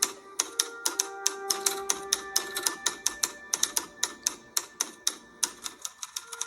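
A typewriter clacks in a steady, brisk run of keystrokes, each strike crisp and close, with a faint electric hum beneath that drops away near the end, from an X-Files episode.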